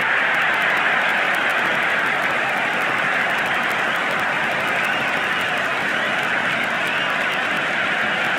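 Cricket crowd at a New York versus Bengal match roaring and cheering in a steady, dense, loud wash of noise that holds throughout, with no clear voices standing out.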